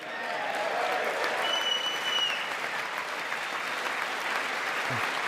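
Lawmakers and guests in the chamber during Trump's joint address to Congress break into sustained applause, a steady, full roar of clapping with faint scattered whistles above it.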